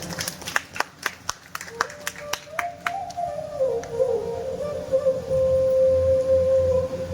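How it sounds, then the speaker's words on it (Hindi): An audience at a Ram Katha religious recitation breaks into a short burst of claps that fades into a sustained tone and crowd murmur, loud and close. "एक बार जोरदार तालियां।"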